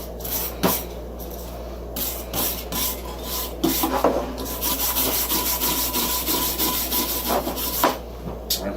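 Close, continuous rubbing and scrubbing of a cloth wiping down a rusty hand tool after rust removal, with soft irregular strokes and a few sharper knocks over a low steady hum.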